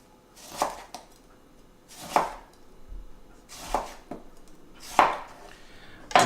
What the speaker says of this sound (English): We're going to cut it into 2, and we're going to slice 1/2 into thin slices.